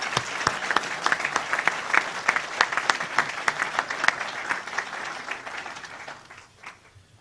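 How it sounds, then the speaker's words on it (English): An audience at a school council meeting applauds the candidates after the first round of speeches, a steady round of clapping that is fairly close and full and then thins and fades out toward the end. "if you please join me in a round of applause for all the candidates"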